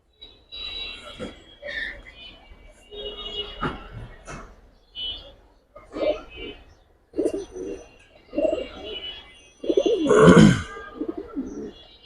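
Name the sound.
pigeons cooing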